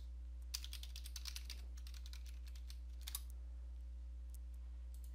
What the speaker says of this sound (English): And then we'll just type in our new password.